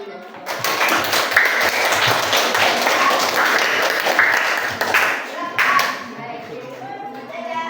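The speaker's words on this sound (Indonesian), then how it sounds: "kita kasih tepuk tangan dulu" Students in a classroom applaud after a math lesson: loud, close, dense clapping that fades after several seconds into a few scattered claps, with some voices mixed in.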